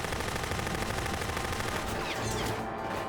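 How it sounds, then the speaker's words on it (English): Sustained automatic gunfire in the Rogue Warrior video game, hip-fired at a box as a dense, continuous rattle of rapid shots, loud and close with no pauses. "Let's shoot this box. Let's see the recoil pattern on hipfire."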